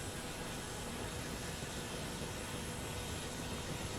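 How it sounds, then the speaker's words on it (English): Left jet engine spooling up in Microsoft Flight Simulator 2024, a steady broad roar of turbine noise that fills the whole stretch evenly without breaks, heard close and continuous with no talking. "It sounds like the left engine has started."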